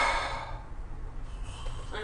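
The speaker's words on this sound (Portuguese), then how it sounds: "soltar, expulsar o ar pela boca" A person pushes air out forcefully through the mouth during an abdominal breathing exercise, producing one steady, breathy exhale of about two seconds, close to the microphone and without talk.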